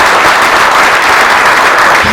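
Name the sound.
audience applauding Jasmine Iméné at a gala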